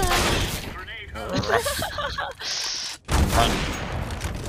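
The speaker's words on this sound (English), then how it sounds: "I'm getting shot from 300 fucking positions." Rapid bursts of gunfire from an online shooter video game, sharp cracks and volleys coming in close succession, heard under and between excited voices of players talking over each other.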